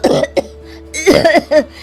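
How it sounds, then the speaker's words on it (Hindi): Several harsh coughs from women choking on wood stove smoke, close by, in short bursts with brief pauses, some sounding like throat clearing. "पर उसकी वजह से दोनों सास बहुओं को बहुत खांसी उठ रही होती है।"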